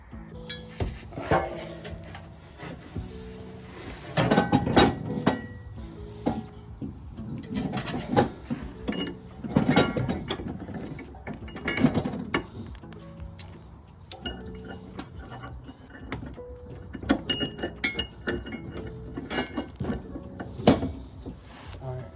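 Clicks and metallic clatter from a ratchet tightening the bolts of a 1 1/4 inch hitch activity mount on a Toyota Venza, in irregular bursts of close mechanical rattling, with some talk at points.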